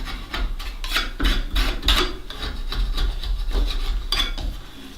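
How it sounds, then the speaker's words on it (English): Scraping and sanding away rough edges around a hole cut in plywood for a goat disbudding box, repeated rasping strokes in an uneven rhythm, close and fairly loud with no talking. "just get a little scraper or just sandpaper or anything, and just sort of scrape this rough off"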